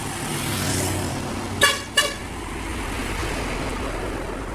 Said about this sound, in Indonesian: Ada yang klakson 1